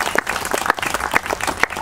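Crowd at a Fourth of July event clapping for the workers, a brief burst of continuous applause with irregular hand claps throughout.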